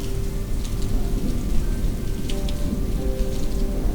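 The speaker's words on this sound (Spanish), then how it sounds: "con muchos truenos, totalmente lavado." Heavy rain pours steadily on a mountain trail during a thunderstorm, a dense constant wash of drops with low rumbling thunder rolling beneath it, loud and close throughout with no voices.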